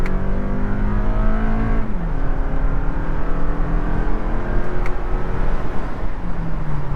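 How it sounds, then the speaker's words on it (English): A 2022 Toyota Camry XSE AWD pulling hard up an on-ramp toward 60 mph, its engine note rising, dropping at a shift, then climbing again, loud and continuous from inside the cabin. "I'm just going to measure how fast we can get to 60 miles an hour on the entrance ramp here"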